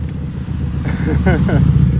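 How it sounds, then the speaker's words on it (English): A motorcycle travelling down a residential street in a mansion area, a rumbling engine that grows slightly louder as it approaches, with a person talking over it. "As we have a motorcycle coming down the street."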